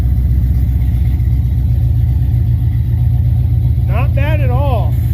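Steady low rumble of a car engine running with Holley Sniper fuel injection, idling close and even throughout while a voice briefly rises over it near the end.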